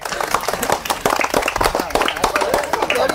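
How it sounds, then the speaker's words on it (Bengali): A small audience claps in a brief burst of scattered applause during a children's candle-lighting matchstick game. The clapping is uneven and close, with voices mixed in throughout. "তার জন্য একটা দর্শক বন্ধুরা একটু হাততালি"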